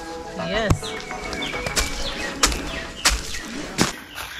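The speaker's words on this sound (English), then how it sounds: "You listen to the birds?" Birds call and chirp on Ndere Island in Lake Victoria, with several short whistled and fluttering notes over steady outdoor background while people talk nearby.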